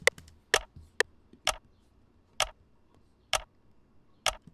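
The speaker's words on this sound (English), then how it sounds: "where a snare or like a clap would normally go, I put almost like a clock ticking." A clock-tick sample takes the place of a snare in a sparse electronic beat: crisp, dry clicks land at a steady, evenly spaced rhythm, with a few quicker flicks at the start and no voice.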